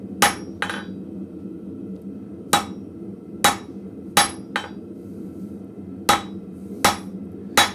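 Blacksmith hammering a piece of scrap metal about an inch in to start a shoulder separating head from handle, in a live forge shop: single sharp ringing hammer blows, spaced irregularly, close and loud over a low shop hum.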